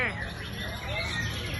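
A ten-month-old white-rumped shama (murai batu) sings quick, high, whistling phrases at moderate volume while someone talks loudly over it.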